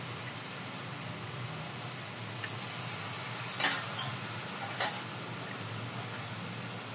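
Pork frying in oil for Bisaya-style pork humba gives a steady, close sizzle throughout, with a few brief clinks of stirring rising above it.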